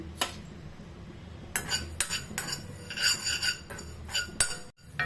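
A spoonful of sesame seeds dry-roasted in a hot pan without oil, stirred with a metal utensil that scrapes and clinks against the pan in irregular bursts, close and fairly clear, with no voices.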